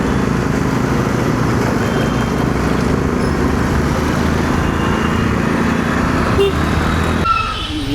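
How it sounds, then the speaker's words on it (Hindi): Dense Mumbai street traffic near Dadar rumbles on without a break, with engines idling and churning close by in a loud, steady wash of road noise. "मुंबई का ट्रैफिक कभी ख़त्म ही नहीं होने वाला है."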